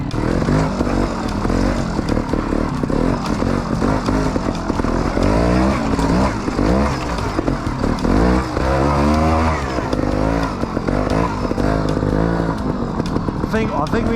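Trials motorbike ridden by mountain bike riders trying motorbike trials, its engine revving and dropping in repeated bursts, loud and close, with voices talking over it.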